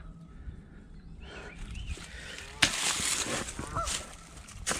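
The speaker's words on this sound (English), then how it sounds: "Oh, you got some angry geese." Geese honk angrily by a creek in a limestone cliff area, with a few calls at first followed by a loud burst of overlapping honks from nearby and scattered trailing calls.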